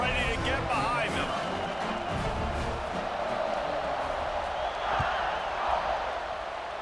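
Stadium crowd in EA Sports College Football 26 before a kickoff, a broad roaring wash of cheering that swells and holds throughout, with a commentator's voice running over it.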